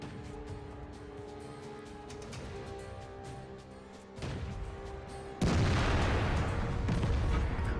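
Artillery fire from an FV304 self-propelled gun in a tank game: a single heavy boom lands midway, followed by a louder, sustained blast of rumbling noise, with quieter mechanical ambience before it.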